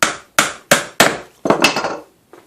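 A hammer taps a small panel pin held steady in thin-nosed pliers during a DIY job, giving four sharp, evenly spaced close strikes followed by a quicker cluster of lighter taps and one last soft knock.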